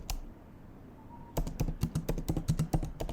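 A folder name is typed on a computer keyboard: after a quiet pause, a quick, close run of crisp keystrokes clicks out in an uneven rhythm.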